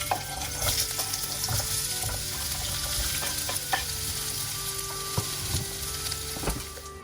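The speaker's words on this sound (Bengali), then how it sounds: "আমি আবার সেম ফ্রাই প্যানটাতেই আমার ভেজিটেবলগুলো একটু সটে করে নেব।" Capsicum, mushroom and red onion sautéing in a frying pan, a steady close sizzle with repeated stirring and scraping clicks throughout, no talking.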